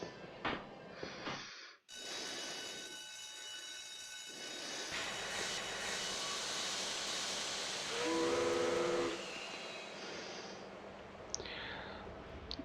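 Steam-powered engine hissing steadily with a train-like rumble in the Grandia video game, a steam whistle blowing with clear tonal bands partway through, then the hiss continuing, no talk.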